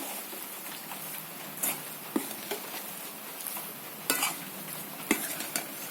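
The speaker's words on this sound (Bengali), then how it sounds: "আঁচটাকে বন্ধ রেখে এভাবে মিশিয়ে নেব" A spoon works ground roasted sesame into a coconut and jaggery mixture in a pan with the heat off, soft close scraping punctuated by a few sharper knocks against the metal.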